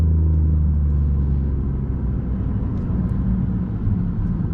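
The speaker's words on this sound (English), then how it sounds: "So we've got some fake sound through the speakers as well. You can hear those downshifts." Synthetic engine sound piped through the cabin speakers of a 2020 BMW i8 Coupe on the Autobahn, a steady low droning rumble with subtle shifts in pitch suggesting downshifts, continuous and close.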